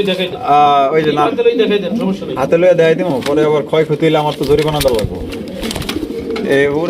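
Racing pigeons coo repeatedly at a pigeon farm, the soft throaty calls running beneath almost continuous close male speech.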